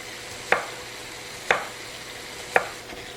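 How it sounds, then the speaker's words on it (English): Vegetables chopped on a cutting board while ground beef cooks in a pan: three crisp knife strikes about a second apart, over a steady low sizzle. "And while you're chopping your vegetables, just keep breaking up your ground beef."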